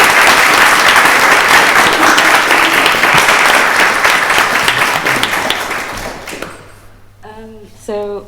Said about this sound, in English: give each of our panellists just a warm round of applause